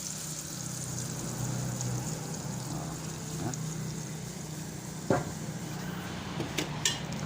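Sautéed boiled mung beans being stirred in a cooking pot, a soft scraping and shuffling under a low hum, broken by a few sharp metallic clinks of a utensil against the pot near the end.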